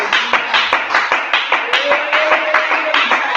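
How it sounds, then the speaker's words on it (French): Rhythmic congregation clapping at a spiritual prayer service, sharp regular beats in a steady pulse, with a sustained voice tone running beneath part of it. "Quelqu'un peut applaudir très bien pour le Seigneur Jésus."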